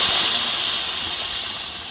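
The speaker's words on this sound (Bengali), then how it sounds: "তেল ছাড়তে লেগেছে এবার জল দিয়ে দাও" Water poured into hot oil in a pan bursts into a loud, steady, steamy hiss that fades only slightly over two seconds, with no voices.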